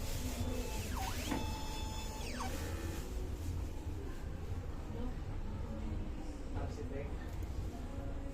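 An inkjet printer working through a head clean cycle: steady mechanical whirring and motor hum, with rising and falling whines as the head carriage moves, running continuously at moderate level.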